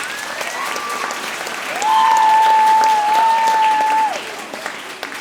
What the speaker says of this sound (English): Will you give all of them a round of applause?